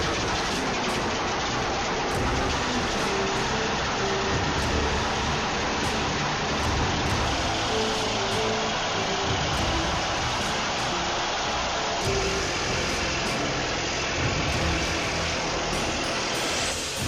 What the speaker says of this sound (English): The massive engine is already running, but the operator only feathers the throttle at the lowest, faintest growl.